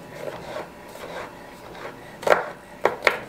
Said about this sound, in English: And you just come in here and chop it up